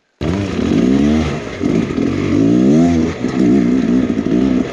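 A Beta X Trainer 300 enduro dirt bike climbing a hill, its two-stroke engine revving loud and close in rising and falling bursts with a wavering pitch, heard alone without talk.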